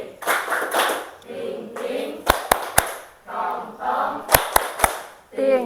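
A classroom of students does a rhythmic thank-you clap, sharp sets of claps in quick bursts of three alternating with children's voices chanting together between them.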